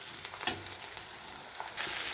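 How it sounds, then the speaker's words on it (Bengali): Onions fry in a pan while cooking chickpea ghugni, a steady close sizzle with light stirring scrapes and a brief louder crackle near the end. "এভাবে কিছুক্ষণ আমি ভেজে নিই পেঁয়াজটাকে।"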